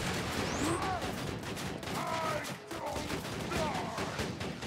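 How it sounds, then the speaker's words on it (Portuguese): A sentry gun in the video game Borderlands 2 fires rapid, sustained bursts of gunfire, layered with chirping game effects and a steady loud wash of battle noise. "Aí, a sentry gun"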